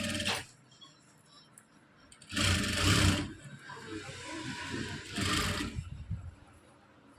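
A sewing machine stitches lace in three loud, steady bursts, separated by quieter handling and rustling sounds.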